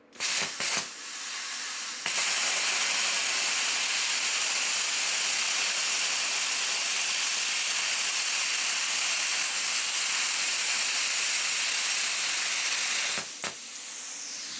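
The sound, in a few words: bestarc BTC500DP plasma cutter cutting metal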